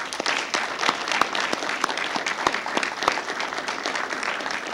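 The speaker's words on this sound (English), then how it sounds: "So, big round of applause for." Applause at a school board meeting, a room full of people clapping steadily and fairly loudly for nearly five seconds, dense overlapping claps with a few sharper individual hits, no talking over it.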